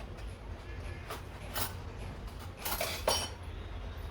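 A utensil skims cream off milk in a metal pot, giving a few soft, scattered metallic scrapes and clinks against a quiet background.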